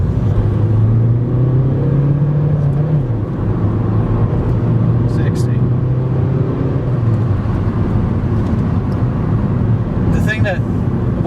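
A 2005 Skoda Fabia vRS turbo diesel hot hatch driving with its engine note dropping through the gears, a steady loud road-and-engine rumble with pitch falling and shifting, and people talking over it inside the cabin.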